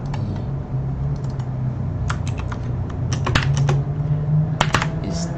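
Rapid, uneven keystrokes patter on a computer keyboard in an office help-desk setting, coming in quick bursts with short pauses over a low steady hum.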